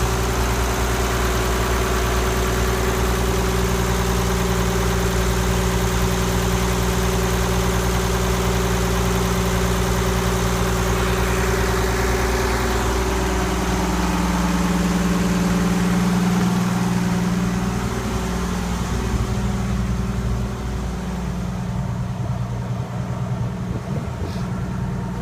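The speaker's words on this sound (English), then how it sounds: "port engine running a little above idle" A Ford Lehman 120 marine diesel port engine, tested after an injection pump rebuild, runs steadily a little above idle with a deep, even drone and a constant mechanical hum, close and loud throughout, no voices.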